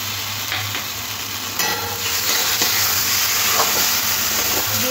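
Mustard paste ground from black and white mustard seeds with green chillies sizzles and fries with potatoes in a pan for an Indian tangra fish curry, a steady hiss with stirring scrapes, close and alone.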